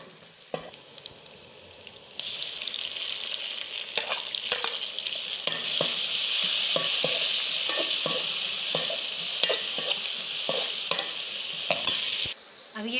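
Green chillies frying with browned garlic and ginger in a pan, a steady loud sizzle with frequent stirring scrapes and clicks throughout, no voices.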